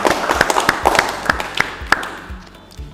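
Scattered claps from a small audience at an Indonesian podcast-style panel on restorative justice, uneven and close, tapering off after about two seconds.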